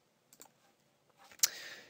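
A few quiet computer mouse clicks while zooming out in Adobe Photoshop CS4, sparse and close, with a louder click near the end followed by a brief fading rustle.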